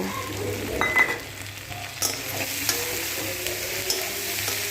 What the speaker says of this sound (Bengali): কুচনো পেঁয়াজগুলো আবার একটু নাড়াচাড়া করে নিচ্ছি।